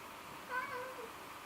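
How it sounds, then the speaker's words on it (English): A cat indoors gives a single short, faint meow, heard distantly beneath steady room noise, with no talk over it. "The cat's meowing."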